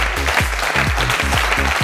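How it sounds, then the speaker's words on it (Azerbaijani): A television game-show studio audience applauds the cinema team in steady, rhythmic bursts that sound near and full throughout. "alqışlar kino komandası üçündür"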